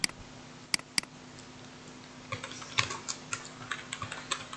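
Someone types on a computer keyboard: a few isolated keystrokes at first, then a looser run of quick, light clicks close to the microphone, with no talking.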